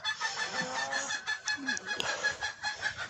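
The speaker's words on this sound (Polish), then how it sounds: "Zobacz, kogucik cię nawet woła." A young rooster calls close by among clucking and honking fowl. Its rough, squeaky crowing rises over a steady, busy background of poultry chatter in a farmyard.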